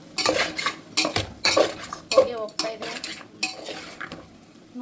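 Stirring in a pot: repeated clinks and scrapes of a spoon against metal, irregular and close, with a faint sizzle beneath.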